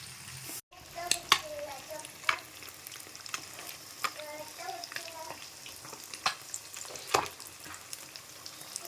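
Pond fish fry in hot oil with a steady, close sizzle, punctuated by sharp crackles and pops and occasional stirring, while someone talks quietly in places.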